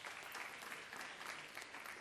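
Audience applause at a university constitutional debate competition, a steady dense clapping from the hall for the seven-member jury, continuous and fairly even throughout with no pauses.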